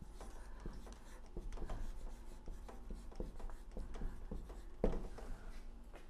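A pen writing in a nature journal notebook: close, quiet scratching strokes in an irregular rhythm, with a firmer tap near the end.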